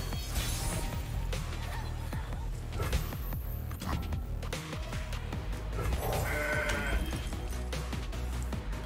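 In Legends of Runeterra, the Mountain Goat card gives a bleating cry over a dense, steady bed of game music and effects, with occasional clattering hits and a faint voice in the mix.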